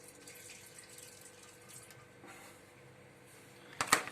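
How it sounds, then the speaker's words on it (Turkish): Water strains out of a warm carp fishing bait dough mixture, a faint trickling wash that ends in a brief louder splash. "bu malzeme birazcık süzeyim bunun suyunu ben"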